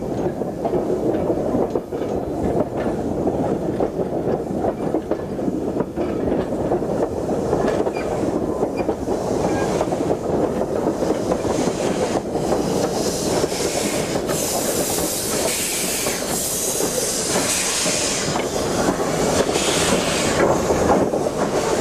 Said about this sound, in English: The Bear Peacock engine pushes trailers numbers 57 and 58 towards Lexley station in readiness for the 10:45 service.